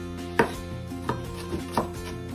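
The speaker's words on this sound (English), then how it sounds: "Chopped the pepper." A knife chops pepper on a cutting board: four crisp, sharp knocks at uneven intervals over about two seconds, close and clear, with no talking.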